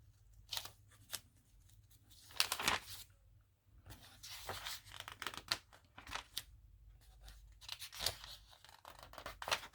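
Scissors snip pictures out of magazine pages in close, quiet bursts of crisp cuts and paper rustle, with short pauses between them.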